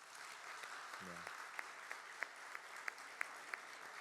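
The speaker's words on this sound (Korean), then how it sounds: "힘차게 박수로 축복하겠습니다" Faint, distant applause from a church congregation at a Sunday service, a soft steady patter with a few sharper claps standing out, and a brief voice near the start.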